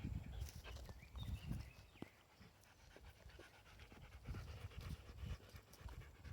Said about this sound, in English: That's a new dog.